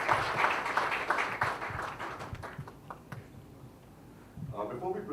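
An audience applauds to welcome Dr. Tharoor at a launch event, dense clapping that fades midway while a voice speaks over it.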